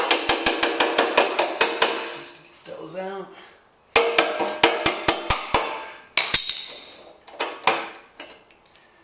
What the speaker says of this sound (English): Just a little hammer.